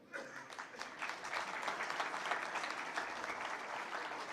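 A publishers' congress audience in Delhi applauds an award winner with a steady, dense round of clapping. The sound is fairly distant and soft, swelling slightly after the first moment and holding evenly.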